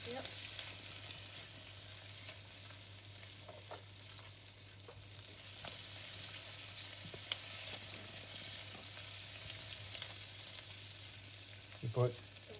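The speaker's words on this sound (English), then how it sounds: "Keep stirring." Carrots and green peas stir-frying for prawn fried rice, a constant close sizzle with intermittent stirring scrapes and a brief louder knock near the end.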